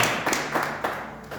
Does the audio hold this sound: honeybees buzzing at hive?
no